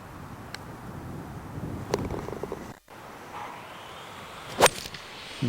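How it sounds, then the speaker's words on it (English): Gusting wind buffets the microphone on an open golf course, a steady low roar that swells and dips, with a brief dropout midway and a sharp knock near the end. "Oh, wind."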